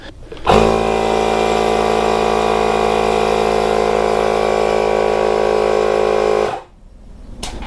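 A tire inflator runs steadily for about six seconds while pumping up a flat ball through a needle, a loud, even mechanical drone that cuts off abruptly, with no talking over it.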